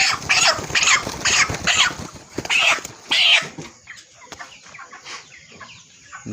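Broiler chickens about 30 days old cluck and squawk in loud bursts at a poultry farm, with busy flock noise continuing more softly in the background.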